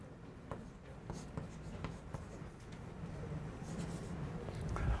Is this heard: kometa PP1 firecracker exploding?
no